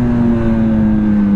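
A Kawasaki ZX10RR motorcycle engine drones steadily while riding, a loud, close, sustained hum holding an even pitch with wind rush underneath and no talking.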